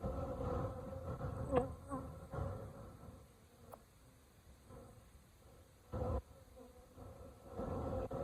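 Honeybees from a swarm trap buzz continuously in a dense, steady hum, fairly close, with a few louder passes as individual bees fly near; no one speaks.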